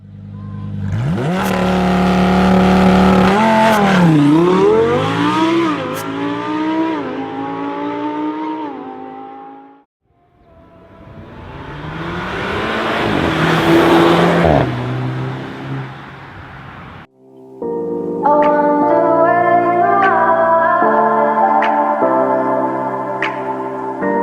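2011 Volkswagen Mk6 GTI with DSG gearbox, loud exhaust under hard acceleration, engine revs climbing in repeated pulls with sharp gearshift pops between bursts, close and dominant.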